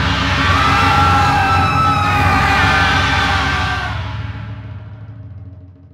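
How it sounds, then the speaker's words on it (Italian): A loud crowd lets out sustained screams and yells in an audiobook sound effect, a dense wall of voices that holds for several seconds before fading away with echo. "Grida altissime lacerarono l'aria e tutta la folla si prostrò a terra spaventata e tremante"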